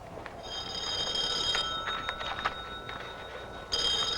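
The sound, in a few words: telephone ringing in film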